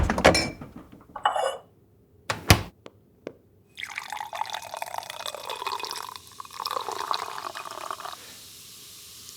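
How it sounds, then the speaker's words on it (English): Homemade sparkling water is poured: a few clinks and knocks of a bottle and glass, then a running, fizzing trickle of liquid filling the glass for several seconds, close and fairly quiet. "Want to try some bubbly water?"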